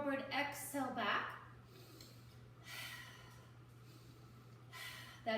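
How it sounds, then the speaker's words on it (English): Quick, short sniffing inhales and soft exhales come from someone breathing through a side-lying exercise, quiet and close, in a few brief bursts separated by calmer breathing. "That'd be our sniff breath."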